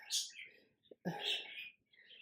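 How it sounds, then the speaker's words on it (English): Pet birds chirp indoors in bright, high tweets, with a few short bursts and pauses between calls, fairly faint and close. "My birds are going crazy again today."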